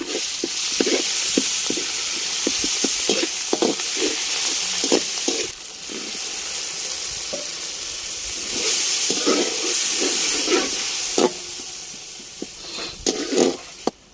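Whole black pepper, cinnamon, black cardamom, cumin and cloves fry in a pan for chickpea pulao, giving a steady close sizzle with short crackling bursts throughout.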